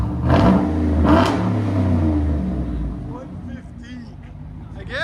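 A 2007 GMC Yukon XL Denali with a 6.2L V8 and Dynomax Bullet exhaust revs up hard, then the engine note falls back toward idle, loud and close, with people talking over it.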